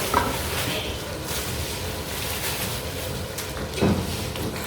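Biryani masala with tomatoes, green chillies and yogurt fries in a pot, giving a constant close sizzle under repeated scraping and stirring strokes, with a couple of louder clanks from the spoon against the metal.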